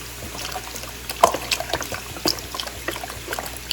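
Thirty-two ounces of liquid pour into a pot of pasta fagioli soup, a close, steady trickle and splash with small glugs and clinks throughout.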